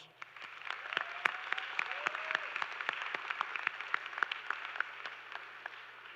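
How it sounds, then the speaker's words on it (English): Sustained applause from a graduation commencement audience, steady dense clapping for about six seconds with a few sharper claps near the front and a faint voice or whistle briefly audible early on. "Graduates, would you please join me in giving everyone here tonight watching you a round of applause?"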